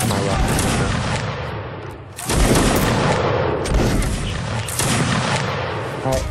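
Musket volleys in a multiplayer line-battle video game, dense crackling bursts of overlapping shots arriving in waves with sharp onsets, loud and booming, with voices talking through the firing.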